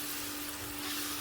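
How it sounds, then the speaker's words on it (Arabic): Chicken breast fries in a pan with spices, giving a steady, soft sizzle that holds at an even level throughout, with no talking. "غادي نخليه يتقلى مزيان حتى لين يطيب"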